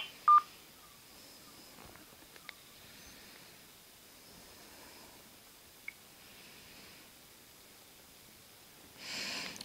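Mobile phone keypad tones from dialing a balance-check code on a Vodafone line: a short, loud tone burst near the start, then a mostly quiet stretch with a few faint clicks and a rising rustle at the end.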